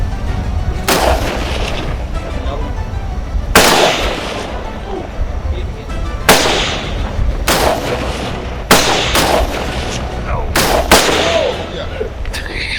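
Loud, close gunshots ring out during a hog hunt, about eight sharp cracks spaced irregularly over steady outdoor background noise, with people talking between shots.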